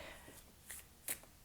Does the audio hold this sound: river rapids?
no